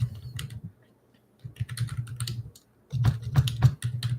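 Someone types on a computer keyboard in bursts of close, soft key clicks separated by short pauses.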